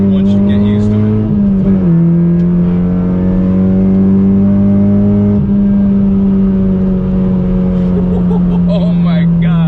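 A 9th gen Honda Civic Si coupe drives with a little oversteer, its engine holding a loud, steady droning note that dips briefly as the car shifts, with a faint tire chirp near the end.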